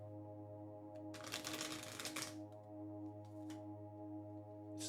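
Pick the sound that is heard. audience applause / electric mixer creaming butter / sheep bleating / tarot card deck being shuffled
tarot card deck being shuffled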